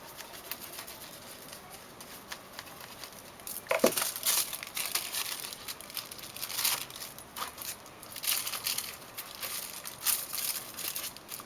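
Tissue paper crinkled and rustled by hand for a journal page, with soft irregular crackling bursts and a few sharper crumples, close and quiet, with no one talking.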